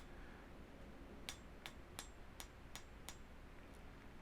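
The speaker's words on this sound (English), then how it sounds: "Light strokes with the hammer." Light hammer strokes on thin steel plate being textured, six crisp metallic taps spaced evenly about a third of a second apart over a quiet hiss.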